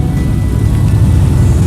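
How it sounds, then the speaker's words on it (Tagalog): Road traffic passing on a busy street, a loud, close, continuous rumble of car engines and tyres with low droning motor noise throughout. "Mga traffic."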